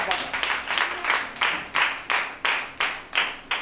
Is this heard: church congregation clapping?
yes